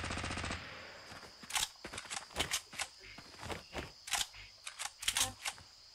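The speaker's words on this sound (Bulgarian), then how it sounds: "Точно се стрелят и отляво." Gunfire in Fortnite crackles in a rapid burst, then scattered single shots and short volleys, with steady background game noise.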